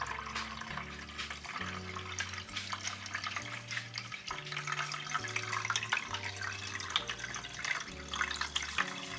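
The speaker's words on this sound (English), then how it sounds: "So you open this right here and you pour your water." Water pours into the tank of a LetPot hydroponics system, a steady trickling stream lasting several seconds. A low, shifting tone runs beneath it, and no one speaks.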